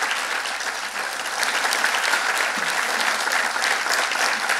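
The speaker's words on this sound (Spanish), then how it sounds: "le damos un aplauso" Audience at a political event applauding, a dense, sustained wash of clapping from many hands that holds steady and close throughout, with no talking over it.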